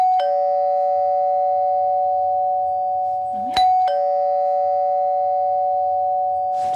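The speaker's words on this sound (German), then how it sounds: "Aber wir klingeln mal." An electronic doorbell rings with a long sustained tone, pauses briefly after a click, then rings again, loud and close with no talking.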